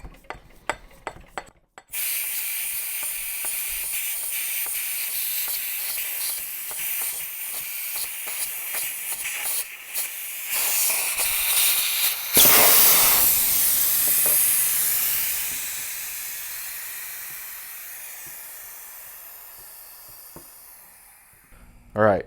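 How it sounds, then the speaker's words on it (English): Compressed air rushes out of an FX Leopard airgun's air tank as it is degassed, a loud, sustained hiss that swells midway and then slowly fades, with occasional speech around it. "it drains the whole barrel tank of all that air"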